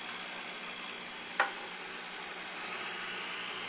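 Electric hand mixer whirring steadily as it beats banana chip muffin batter, a continuous loud motor drone with one brief clack of the beaters near the start, no talking.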